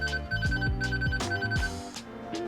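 Electric moped alarm on a NIU MQi+ Sport blares close and loud, a repeating pattern of rising and falling electronic tones with a steady high beep pulsing through, heard alone.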